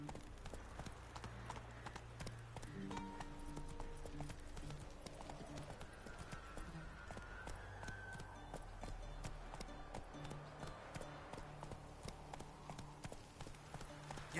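Horse hooves clip-clop steadily through a PS4 game scene, a running rhythm under game music and occasional character voices, moderately loud throughout.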